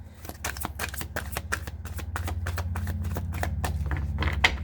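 Tarot cards shuffled by hand in a steady run of crisp riffling flicks, close and fairly loud over a low background hum, with no talking.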